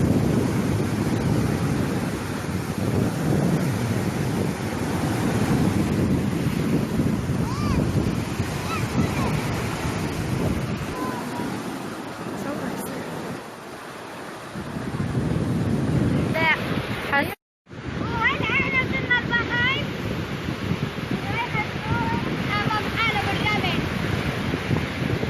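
Sea waves break and wind buffets the microphone on a beach in Gaza, a steady loud roar of surf with brief lulls, while people talk and children's voices come through near the end.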